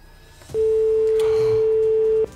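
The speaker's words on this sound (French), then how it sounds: "Troisième sonnerie." A single steady electronic telephone tone sounds for nearly two seconds, loud and even, then stops abruptly.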